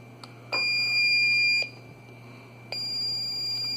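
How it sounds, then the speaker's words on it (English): Mahle ArcticPro LD-2 A/C leak detector going through its start-up sequence: two long, piercing electronic tones about a second each, separated by a short gap, over a faint steady hum. "this is where the tool's getting ready. So it goes through this short sequence until it is finally ready to start working"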